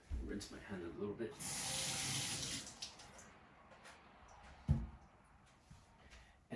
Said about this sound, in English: Rinse my hand a little bit